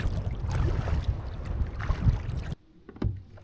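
A canoe is paddled into the wind with a split-blade paddle on a wilderness lake, with close, loud gusty rushing and water splashing, then a quiet pause broken by a brief paddle dip.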